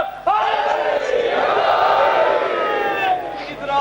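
At a majlis, a crowd chants slogans in unison, a loud swelling roar of many voices that starts abruptly and holds steady, rising and falling for a few seconds.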